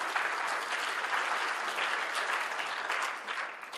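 Steady, dense applause from an audience at a Pakistani government child protection training launch, sustained evenly throughout with no speech over it.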